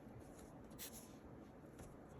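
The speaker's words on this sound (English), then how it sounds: "Now let's write it down real quick." A pen scratches across paper in short strokes, faint and close, with a couple of brief louder scrapes against a quiet room.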